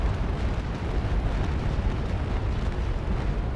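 Naval cannon fire from warships in the Naval Action video game during a port battle at Bluefields: a dense, continuous rumble of booming blasts filling the whole stretch, loud and overlapping without a break.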